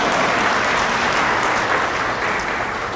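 Dense, steady clapping fills the room at a city volunteer banquet for boards and commissions, a full audience applauding continuously at close range with no talking over it.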